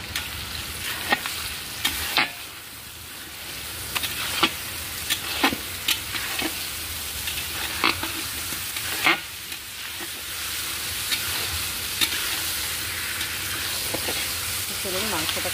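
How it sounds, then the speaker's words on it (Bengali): Chicken pieces stir-fried in a pan for a curry, a continuous sizzle broken by regular scraping clicks of the spatula, close and clear. "দিয়ে আমি ভালো করে মাংসটাকে কষিয়ে নেব।"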